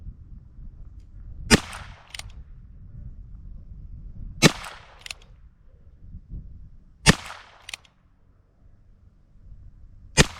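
A Ruger Wrangler revolver with a Birdshead grip fires at a shooting range, four sharp, loud cracks spaced a few seconds apart, each with a short ringing tail over quiet outdoor background.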